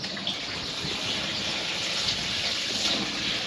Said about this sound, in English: plumbed it in so you can run fresh water through this thing whenever you want